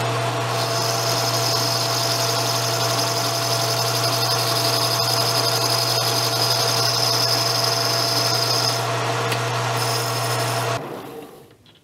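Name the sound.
boring out a motorcycle brake lever to fit the pivot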